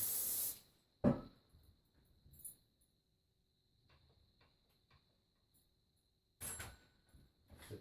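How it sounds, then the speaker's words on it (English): Short hissing bursts of olive oil spray from a pump bottle onto a glass dish, one at the start and another near the end, with faint tapping and clinks between. "I'm going to spray the glass again."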